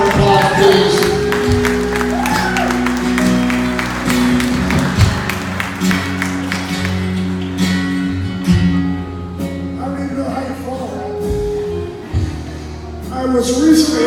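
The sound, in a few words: audience applause and cheering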